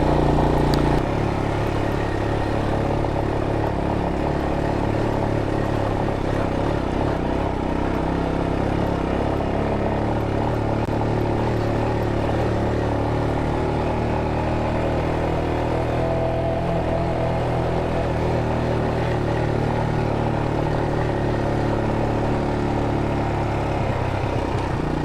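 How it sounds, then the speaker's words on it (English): A Royal Enfield Himalayan motorcycle rides a light off-road trail with a steady, close engine drone, constant rumble and clatter, plus rushing wind throughout. "Super glad I got this motorcycle."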